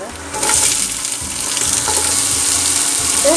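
Curry leaves, garlic, ginger and onion sizzle loudly in hot oil in a pan while being cooked for egg sukka, a steady, close frying hiss that runs the whole time with faint stirring scrapes.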